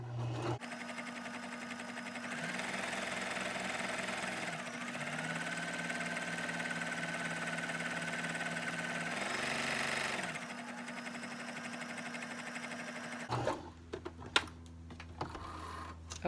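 A sewing machine runs a long basting stitch along fabric for a bow tie in one continuous, steady whir lasting about thirteen seconds, then stops, followed by a few light handling clicks.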